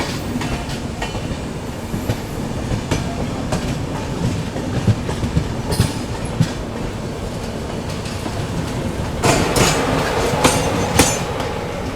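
Steady rumble and rhythmic clickety-clack of the Duronto Express, India's fastest train on the Mumbai Central–Nizamuddin route, running on rails, heard from inside with occasional sharper wheel clatter.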